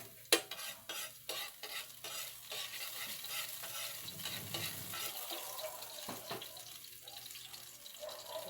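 Garlic sautéing in a pan: soft sizzling with repeated scraping stirs and clinks of a utensil, plus a brief burst of running water from a tap, fairly quiet and close.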